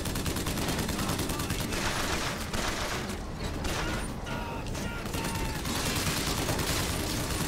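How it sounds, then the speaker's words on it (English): Dense, continuous gunfire and clanking mechanical noise in Bioshock Infinite, loud and steady throughout with no clear breaks, a faint voice buried underneath. "Wait, are you shooting?"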